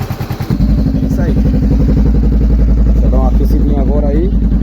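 A 2014 Honda CB500F motorcycle engine idles close by with a steady mechanical tapping, a loud continuous throb carrying rapid ticking under brief voices.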